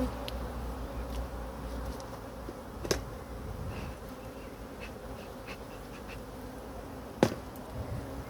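Honeybees buzzing at a beehive, a steady soft drone from many insects with a few louder passes close by and no talking.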